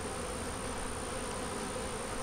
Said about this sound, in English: There's a lot of bees on it.